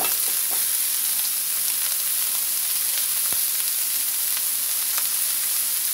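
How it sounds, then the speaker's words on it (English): Chopped prepared coleslaw and baby carrots sizzle loudly in a frying pan for fried rice, a dense, constant hiss with small crackles and pops throughout. "I've got a little bit of chopped prepared coleslaw here and some little baby carrots. I'm just going to dump them in there."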